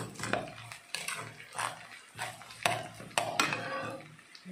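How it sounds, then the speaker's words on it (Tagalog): A mixture being sautéed in a pan, with a spatula scraping and stirring in a steady rhythm of short, fairly loud strokes against the metal and a light crackle beneath. "Gisa na ang kalakot o kuan."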